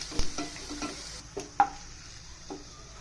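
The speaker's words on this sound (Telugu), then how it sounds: "అవి కొంచెం ఆయిల్లో ఫ్రై చేసుకుందాం. ఇదిగోండి, ఫ్రై అవుతుంది" Raw prawns frying in oil in a pan, with a soft sizzle under a few sharp stirring scrapes and taps spread across the short stretch.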